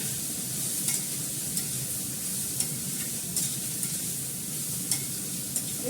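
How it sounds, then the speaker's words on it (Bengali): Food fries in a pan with a low, even sizzle, broken by soft periodic clicks of stirring at a moderate distance. "ভালো করে ফ্রাই করে নেবো"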